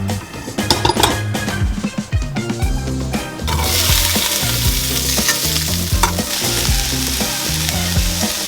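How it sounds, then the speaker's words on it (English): Peppers and onions fry in a pan, first with clattering stirring and clinks of the utensil against the pan, then a loud, continuous close sizzle, with no one speaking. "the peppers and onions have been cooking for about 5 minutes"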